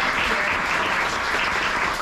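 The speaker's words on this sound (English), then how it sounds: "let's give a round of applause for your chair really quick" A crowd at a Cambria County Democratic meet and greet in Johnstown, PA applauds its county party chair, a loud, dense, continuous round of clapping that fills the room without a break.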